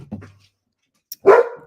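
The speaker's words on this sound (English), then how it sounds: "So sorry, that's the dog." A pet dog gives a short low sound, then one loud, close, sharp bark after a brief pause, with no talking over it.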